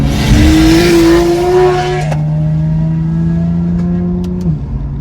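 A 650HP big-turbo Toyota A90 Supra rips past at full acceleration, loud and close, its engine note climbing and shifting before fading into a lower drone as it pulls away.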